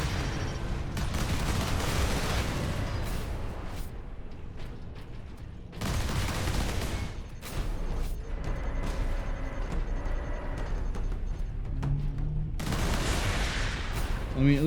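Sustained turret gunfire in the Warhammer 40k: Space Marine video game, dense rattling bursts running almost continuously with brief lulls, loud and close amid a busy battle soundscape.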